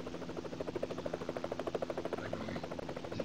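Helicopter in the 1995 retro video game Big Red Racing, a steady pulsing rotor chop with a fast even rhythm and buzzing engine drone, heard close and alone throughout.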